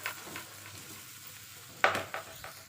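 Food in a cooking pan being stirred, a quiet sizzle under a few brisk scraping strokes, one sharper clatter near the end followed by two softer scrapes, close but low in level, with no talking.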